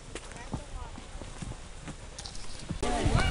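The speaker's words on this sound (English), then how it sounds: "On our horse ride." Horse hooves clip-clop in an uneven walking rhythm during a trail ride near waterfalls, close and moderately loud, with voices talking over them toward the end.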